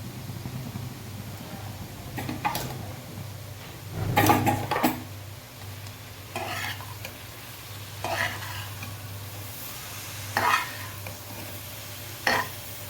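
Peanut kernels and onion tempering sizzling in hot oil while being stirred, a soft steady fry broken by several louder scraping stir strokes spaced a couple of seconds apart.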